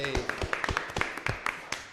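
Scattered clapping greets a guest arriving on a live radio talk show, a handful of uneven claps and taps close to the microphone over roughly two seconds.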